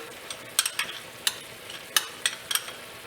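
A utensil stirs a gravy mixed with yogurt in a pan for a lauki kofta dish, producing a quiet run of soft, irregular clicks and scrapes against the pan over a faint background.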